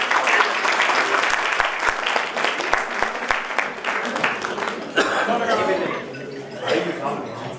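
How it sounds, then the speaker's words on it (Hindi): Loud, sustained applause from a crowd honouring a cyclist at a women's event, dense clapping mixed with a few cheers and murmurs, fading slightly toward the end. "प्रांजल ठोलिया के लिए जोरदार तालियां।"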